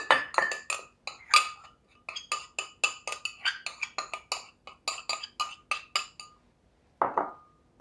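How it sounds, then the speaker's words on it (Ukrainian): Dry lentils poured into a pot for a lenten soup clatter in quick, irregular bursts of small, hard clicks and rattles, with a final short rustle after a pause. "висипаю сочевицю"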